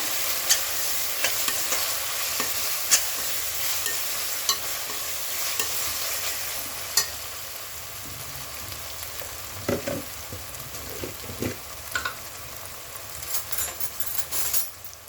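Spices with Kashmiri red chili powder fry and sizzle in a pan, a constant hiss broken by scattered spoon scrapes and taps, louder and busier toward the end, with no talking.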